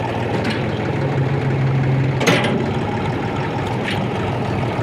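A tractor fitted with a homemade loader bucket about 1.5 m wide, its engine running with a steady low rumble as it drives off, plus a brief metallic clank partway through.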